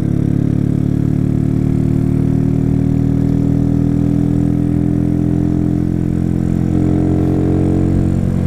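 A Honda CG 125 Fan motorcycle engine idles steadily up close, a loud, even low rumble that holds without revving throughout.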